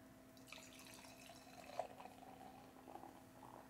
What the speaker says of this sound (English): Let's pour some beer.